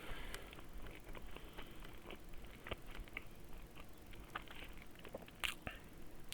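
Close, quiet chewing and biting while eating sausages, with soft wet crunches and occasional sharper bites, no talk.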